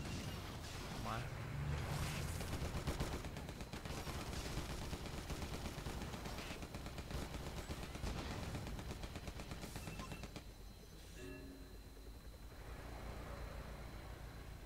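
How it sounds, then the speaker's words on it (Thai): Continuous gunfire and machine-gun bursts from the AirMech Strike PC game, Helix against Kira, with rapid shots layered through most of the stretch, then thinning out near the end under a steady game bed. "คนยิงเราด้วยครับ"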